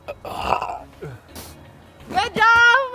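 A baby burps amid adult talk, with short low gurgling bursts near the start and middle, followed by a higher voice cooing close by.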